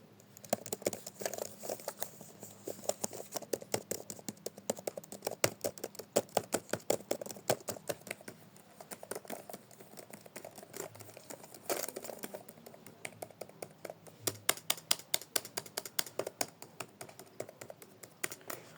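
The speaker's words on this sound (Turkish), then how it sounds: "Hemen şuraya şöyle bir tıklı klavyesini dinleteceğim size." Clicky mechanical computer keyboard typed on steadily at close range, a dense run of sharp key clacks with brief pauses and bursts of faster strokes.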